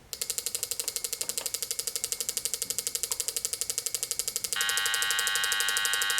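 A Power Probe Tek circuit tester's built-in speaker plays back a measured electrical signal as a fast, even train of buzzing clicks that shifts partway through to a steadier, continuous tone.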